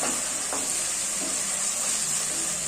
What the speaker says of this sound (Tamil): இப்போ நல்லா இஞ்சியோட பச்சை வாசனை போற வரைக்கும் வதக்கிட்டு